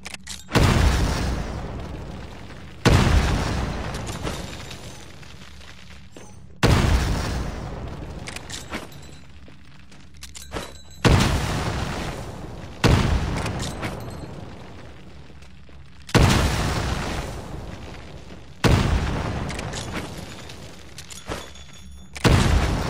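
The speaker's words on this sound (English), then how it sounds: "Throw a grenade into each of the windows." Grenades explode in the first-person shooter Titanfall, a series of about seven loud, booming blasts at fairly regular intervals, each decaying into a rumbling tail, with no talking.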